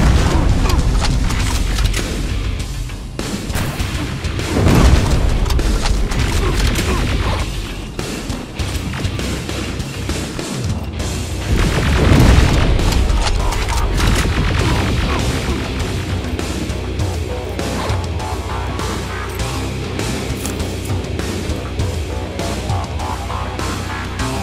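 Heavy booms and blasts of gunfire in a fight against a Skynet HK tank in Terminator Resistance, loud and dense throughout with two bigger surges of impact.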